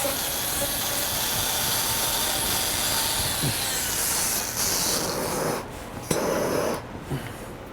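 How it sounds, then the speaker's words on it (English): A torch roars as it burns fine burrs off carved bald cypress bonsai deadwood. The hiss is steady and close for several seconds, then dips and flickers with short breaks and a soft knock near the end. "I want to burn off any little fine burrs in here."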